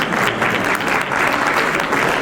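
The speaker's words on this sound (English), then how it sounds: "So can you give a round of applause to yourself?" Dense, sustained applause from a gala audience at a physicians' society annual dinner, steady and full throughout with no pauses.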